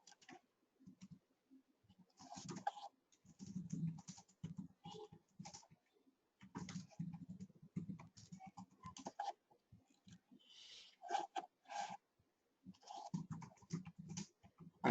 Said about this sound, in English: I'm just typing the phone number